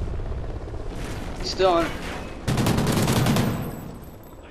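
Bursts of rapid automatic gunfire in a competitive tournament match of a shooter game, a dense volley, a short gap, then a second louder sustained burst, with a person speaking briefly over it.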